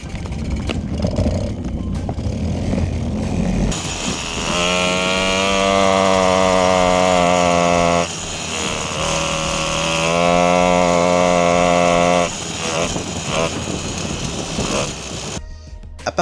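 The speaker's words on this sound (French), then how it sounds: "Petite vidéo pour vous montrer la joie des réglages d'un moteur quand on sait pas où on va." An MBK AV7 moped engine fitted with an Airsal XL stage 4 kit runs during tuning, a loud two-stroke buzz that climbs into long high-pitched revving wails, drops back, then screams again before cutting off, close and without speech.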